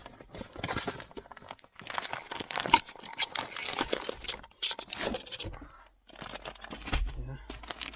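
Plastic packaging being torn and opened inside a classic car, busy crinkling and crackling rustles in close bursts, with short pauses and a voice speaking intermittently.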